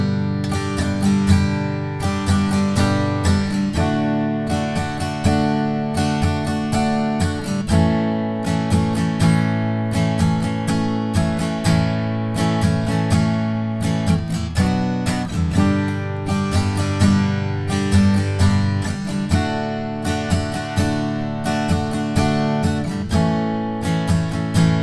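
Acoustic guitar strums the first bridge section of a song in steady down-up chord strokes, loud and close, with chords ringing out and no voice.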